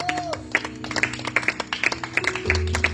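A church congregation claps in praise during a Spanish-language service, with sharp, irregular handclaps spread through the room alongside organ-like sustained tones and a low hum.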